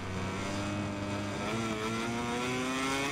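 Motorcycle engine in the MotoGP 21 racing game, a continuous high revving whine that climbs steadily in pitch as the bike accelerates, loud and alone without talk.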